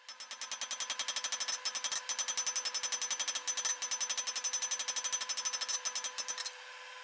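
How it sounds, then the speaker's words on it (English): Rapid, steady blows of the flat of a hammer forging metal on the flat of an anvil, a fast even rhythm of bright ringing strikes that continues for several seconds before stopping. "finishing up with the flat of the hammer on the flat part of the anvil"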